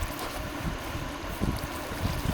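Flowing water in the Minecraft video game, a steady, close rushing and trickling wash that holds level for the whole stretch, with no talking over it.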